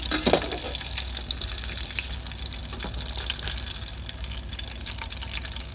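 Okoy fritters made with dilis and onion frying in hot oil, giving a steady close sizzle and crackle with a few louder spatters near the start.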